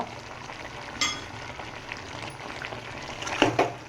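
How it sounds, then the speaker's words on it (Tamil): Chicken being stirred with curry masala and chicken masala in a frying pan for a chicken gravy, a steady low sizzle with a few sharp scraping clinks of the spoon near the end, no talking. "ரெண்டையும் போட்டு நல்லா கிளறி விடுங்க"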